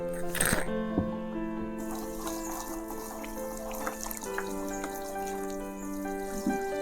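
Water is poured slowly onto coco peat blocks for a terrace garden potting mix, a soft steady trickle with faint drips running under a background hum, with no talking.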